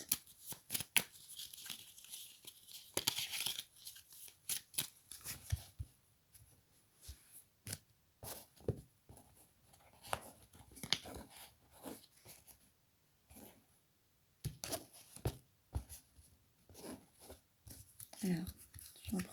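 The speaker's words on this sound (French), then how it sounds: "On va aller tirer 3 cartes." Playing cards shuffled and drawn one by one for a tarot-style reading, with soft riffling, sliding and snapping card sounds in bursts over a quiet room, close and fairly faint.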